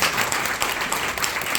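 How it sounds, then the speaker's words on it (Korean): Applause from a congregation in a church during a March 1st Movement commemorative worship service, a dense, even wash of clapping filling the short moment without any voices. "일단 박수 좀 한번 쳐드려요."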